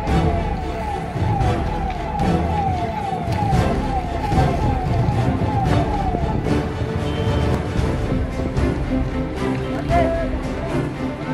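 Fire engine siren wailing as trucks arrive at a scrapyard warehouse fire in Pimpri Chinchwad, a steady rising-and-falling tone over heavy engine rumble and crowd noise, fairly loud and continuous throughout.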